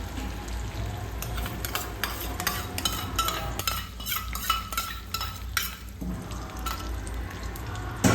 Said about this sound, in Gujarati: પછી સાકરને આપણે લો ફ્લેમ પર ધીમે ધીમે ઓગાળીશું।